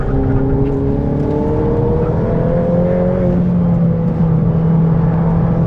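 A Ferrari F8 Tributo engine pulls hard from inside the cabin on a race circuit, a steady loud drone rising in pitch through the gears with a deep roar underneath.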